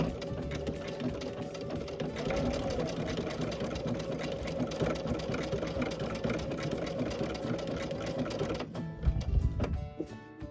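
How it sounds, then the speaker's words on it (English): Sewing machine running a blanket stitch in black thread along the edge of a scrappy Dresden quilt block, a steady close mechanical whir that holds for several seconds before stopping abruptly, followed by a few brief handling knocks. "I'm going to lock this in, the stitch, and I'm going to start."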